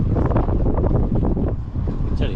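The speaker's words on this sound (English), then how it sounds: "it absolutely howls through these railings on here" A Chinook wind in Calgary howls through bridge railings, a loud, steady roar of gusting air buffeting close to the microphone, continuous throughout with no pause.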